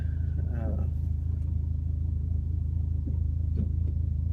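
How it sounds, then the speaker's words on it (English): A car driving with its catalytic converter stolen gives off a steady low exhaust rumble that drones throughout, with a brief higher whine near the start. "driving this car that somebody stole my catalytic converter off of."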